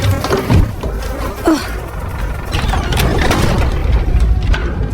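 A fly's steady buzzing hums close by over a low rumbling background in a basement, continuing without a break.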